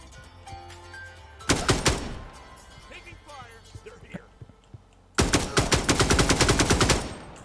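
Loud bursts of automatic AKM rifle fire in a tactical shooter video game, one volley early on and a longer rapid string near the end, with quieter game sounds between.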